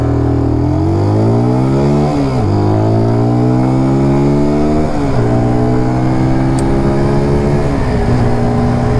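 A QJMOTOR SRK 125 S motorcycle accelerates hard from a standstill to about 40, its engine revving up through three gear changes with pitch rising then dropping each shift, loud and close with wind noise.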